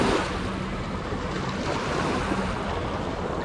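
Water waves on Pineview Reservoir near Ogden, Utah, a steady close wash of lapping water mixed with wind rush, continuous and fairly loud with no talking.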